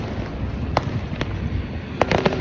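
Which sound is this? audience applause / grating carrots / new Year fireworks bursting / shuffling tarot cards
new Year fireworks bursting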